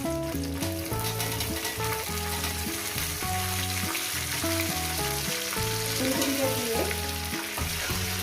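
A pan sizzles continuously as cauliflower florets fry, the steady crackle running under background music.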